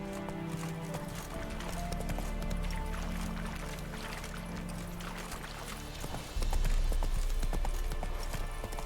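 Horse hooves clip-clop at a steady trot in The Witcher 3 video game, a continuous rhythmic patter over game music and ambience, with a louder stretch near the end.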